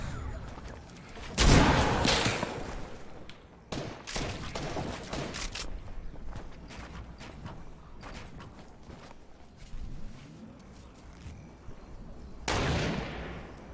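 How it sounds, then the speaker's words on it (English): Sniper rifle shots in a shooter video game, several sharp loud cracks spaced several seconds apart over a busy background of game effects. "I'm getting sniped at from east though"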